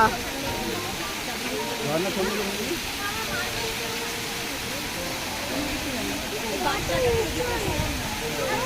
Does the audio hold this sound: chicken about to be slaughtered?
no